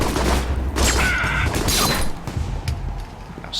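Enemy gunfire in the action game Alpha Protocol: dense, loud rapid shots and cracks crowd the start, then thin into scattered sharp reports, with no talking.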